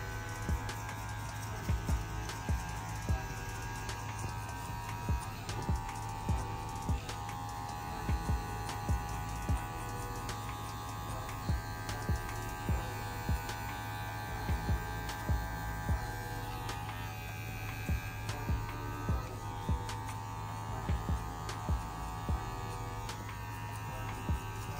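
Electric hair clipper with a comb attachment cutting the side of a man's hair in a mid fade, a steady mains-like buzzing hum with soft rhythmic ticks as the blade passes through hair, no talking.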